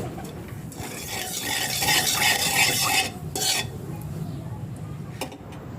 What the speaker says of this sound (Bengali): ওই কড়াইয়ের ভিতরে সামান্য একটু তেল দিয়ে অল্প পরিমাণ লবণ দিয়ে নেব